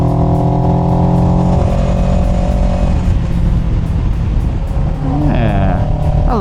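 Beginner motorcycle on off-road tires, 74 horsepower and redlining at 8,000 rpm, accelerating hard close by, its engine note climbing through the gears with a brief dip and rise near the end, loud and steady throughout.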